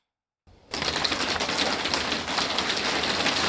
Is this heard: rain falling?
yes